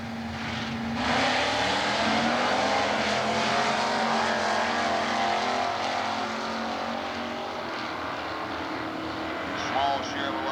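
A 1972 Buick 455 and a small Chevrolet drag racing in NHRA Stock Eliminator at Atlanta, engines roaring loud and steady at wide open throttle for the whole run, with a public-address commentator talking over them.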